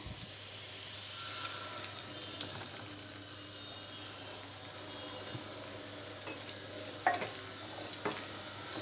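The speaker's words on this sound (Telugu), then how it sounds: "మనం ముందుగా వేయించి పెట్టుకున్న బెండకాయ ముక్కలు వేసుకోవాలి." A soft, continuous sizzle of fried okra pieces being added to a pan, with occasional scraping stirs and a clack near the end, close and fairly quiet.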